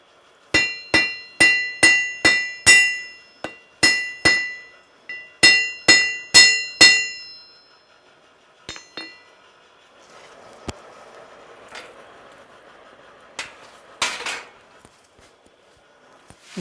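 Rapid ringing blows of a lightweight hammer forging a hot rivet, in quick bursts of several strikes, clear and close, followed by quieter scattered taps and clinks.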